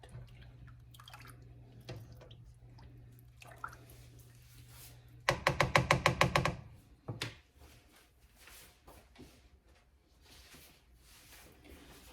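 Diced potatoes slide slowly into a pot of simmering potato, ham and cheese soup, a close, wet burst of splashing and sloshing followed by a brief plop, then quiet kitchen sounds.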